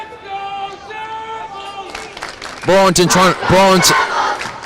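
A crowd at a boys' high school hockey playoff game swells into loud cheers and chanting that come in bursts, while an announcer talks in between.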